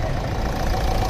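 An engine, fed air through its air filter, is started with an Engine Doctor unit and runs at a steady, close idle with a dense, even low rumble throughout.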